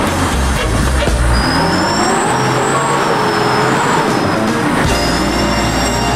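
A vehicle engine roars and strains close by as it pushes through mud, with squealing and churning noise throughout, loud and steady.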